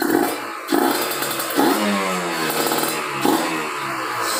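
A Kawasaki Ninja RR two-stroke sport motorcycle engine on a stand revs up and down repeatedly from low to high RPM, loud and close, the pitch climbing and dropping with each throttle blip.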